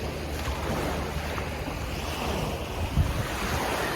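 Ocean surf washes steadily along the shore at Eastbourne, a continuous broad hiss mixed with gusty wind buffeting the microphone.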